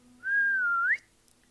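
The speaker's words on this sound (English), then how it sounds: "These are audio commands that you can give your bees" A single clear, loud whistle, used as a command to summon a bee swarm in the video game H.I.V.E., holds a steady pitch and then bends upward before cutting off, alone against quiet background.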